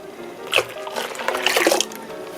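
Potato starch water being poured into a cooking pot for kimchi porridge base, a short splashing pour of about two seconds, close and fairly loud, with no voices.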